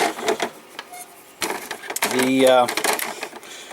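A restored Apple ImageWriter dot matrix printer runs close up, giving a short burst of rising mechanical whine and buzzing print-head chatter, with someone speaking around it.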